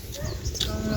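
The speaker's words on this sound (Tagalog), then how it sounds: "may mga kalabaw" A carabao, a water buffalo, lows in a sloping field, a short low moo heard outdoors with wind and people talking nearby.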